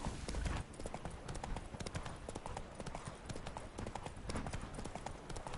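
Roach, the horse in The Witcher 3 video game, clip-clops along in a quick, regular gallop of hoofbeats, loud and close, with faint talk in the background.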